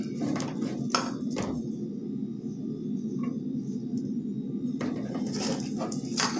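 Rice poured into a pot with tuna and vegetables and stirred for arroz con atún, giving soft scraping and clinking of a utensil against the pot over a steady low cooking hum, close and moderately loud, with no talking.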